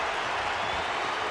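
Basketball arena crowd at a 2005 NCAA Tournament game between Illinois and FDU, cheering and applauding in a dense, steady wash of clapping and roar, brief and continuous.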